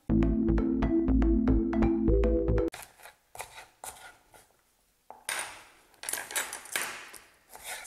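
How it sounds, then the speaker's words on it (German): A knife cuts vegetables for a vegan pan dish. A sustained tonal hum comes first, then irregular, close, dry tapping and scraping strokes on a board in short uneven runs. "Jetzt schneide ich die auch nochmal."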